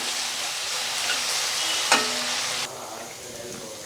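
Onion, garlic and tomato sauté in a pan for garlic curry leaf kuzhambu, with a loud, continuous close sizzle, one brief clink partway through, and then the frying drops to a softer hiss.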